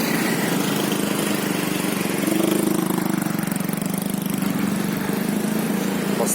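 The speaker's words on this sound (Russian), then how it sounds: "Постоянный поток машин, мопедов, мотороллеров и другой техники." Steady, continuous roar of passing cars, mopeds and scooters on a busy city road in Laos, a dense engine drone that swells slightly midway, with no voices.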